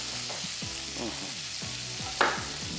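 Shrimp fry in a hot pan before being smoked over fir branches, a continuous soft sizzle and crackle running under a gentle melodic backing, with one sharper spit near the end.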